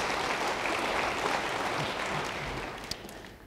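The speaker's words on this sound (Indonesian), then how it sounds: "Yang Ia beri tepuk tangan bagi Dia." Church congregation claps for God during a sermon, a thick, continuous roar of hands that holds strong and then eases off slightly near the end.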